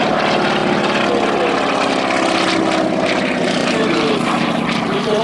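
A North American T-6 propeller aircraft engine at a 2016 air meeting, giving a loud, steady, close droning roar with a rough, pulsing texture that holds without a break.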